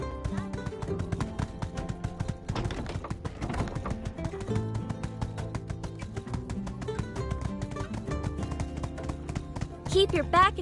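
Horse hooves clip-clop in a steady rhythm in the video game My Time At Sandrock, layered under game music, with a brief louder burst near the end.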